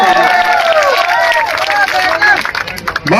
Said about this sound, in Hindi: एक बार जोरदार तालियों के साथ स्वागत किया जाए।